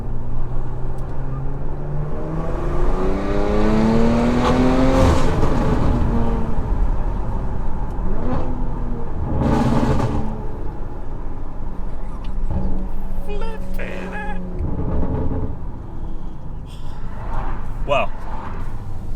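A Porsche Macan's engine revs while driving, rising and falling in sweeping pitch climbs with surges around the middle, heard from inside the cabin alongside road noise and occasional voices.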